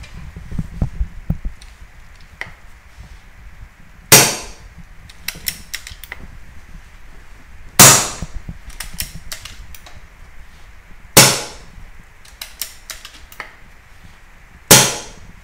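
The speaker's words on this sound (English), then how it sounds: "You can cock and fire it all in situ from the shoulder" An Air Arms S510 TR Tactical side-lever air rifle is cocked and fired from the shoulder, with four sharp, close shots spaced a few seconds apart, each followed by clicking lever and loading sounds.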